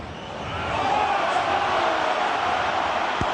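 Rugby stadium crowd at an Ireland versus New Zealand match, a broad sustained roar of many voices swelling early and holding steady as fans react to a possible forward pass.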